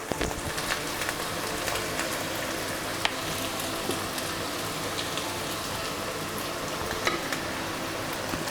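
Egg bhurji fries in a pan with turmeric, giving a soft, steady sizzle with scattered light clicks and scrapes from stirring, fairly quiet throughout.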